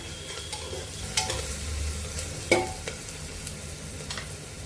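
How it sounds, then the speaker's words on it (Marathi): Onion frying in a pressure cooker for elephant foot yam bhaji, stirred with a spatula: a steady sizzle with a few distinct scraping clacks against the pot. "चांगला ढवळून घेऊया कांदा।"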